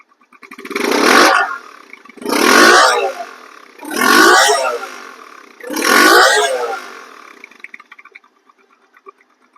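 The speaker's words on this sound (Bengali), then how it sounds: "সেলফ স্টার্ট এটা স্টার্ট হয়ে গেছে" A second-hand motorcycle with a Yamaha FZ-style engine in showroom condition is revved close up in four strong bursts about a second and a half apart. After the last burst it settles into a quiet, smooth idle.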